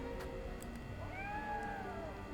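A cat in the video game Triangle Strategy gives a single clear, rising-then-falling meow, moderately loud over a soft background of game ambience.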